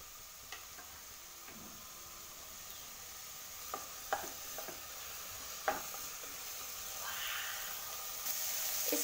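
Vegetables for veg pasta stirred and mixed in a pan, a quiet steady sizzle broken by a few faint scraping and clicking stir strokes close by.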